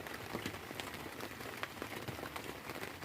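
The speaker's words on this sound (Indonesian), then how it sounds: "walaupun hujan kawan," Rain falls steadily during a fishing trip, a dense hiss of drops pattering on nearby surfaces with occasional sharper taps, continuous and fairly close.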